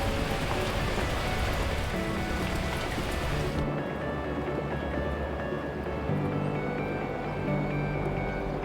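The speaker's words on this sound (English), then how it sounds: "At that moment, the heavens opened up, unleashing torrential rain." Torrential rain in the video game Beacon Pines, a dense, loud hiss of downpour that drops to a softer patter partway through, with a low musical drone beneath.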